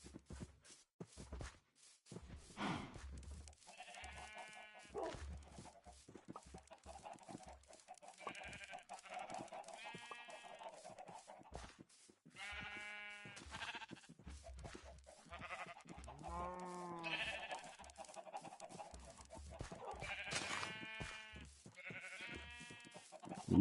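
Repeated bleats from sheep in Minecraft, several overlapping calls in bursts throughout over a steady background of game sounds, with no talking.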